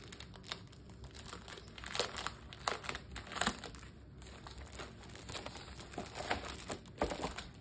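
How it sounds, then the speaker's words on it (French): Sheets of paper and colored dividers are pulled out and handled up close, giving irregular crinkling, rustling and crisp paper snaps throughout. "Je vais sortir ça. Donc nous avons des feuilles de papier et les intercalaires."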